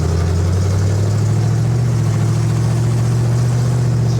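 A 1970 Ford Falcon on new old tires cruises steadily through a neighborhood, its engine a loud, continuous low hum heard from inside the car.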